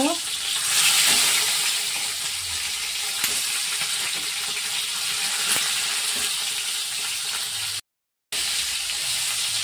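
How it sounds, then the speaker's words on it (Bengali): Marinated shrimp coated in turmeric fries in mustard oil in a pan, giving a constant close sizzle with faint stirring scrapes and one short dropout near the end. "সর্ষের তেলটা দিয়ে দিলাম, মাছগুলোকে ভেজে নেব।"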